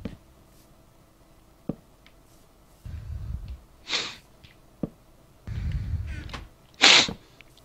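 Several short, close sniffs and snorting breaths come in separate bursts, unevenly spaced over a few seconds, with near-silence between them.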